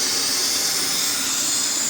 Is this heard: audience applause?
no